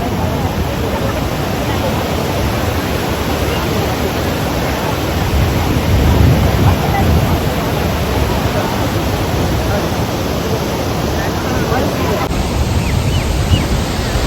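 The monsoon-swollen river at Athirappilly rushes at high level, a dense, steady roar of churning water filling the whole scene without a break.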